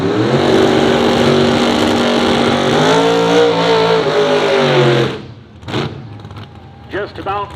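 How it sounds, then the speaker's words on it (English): A cranked Camaro drag car at a drag strip revs loudly and steadily, then fades, with a commentator talking over it and brief engine bursts afterward. "This is Kyle Needham in the cranked Camaro from Genoa, Illinois"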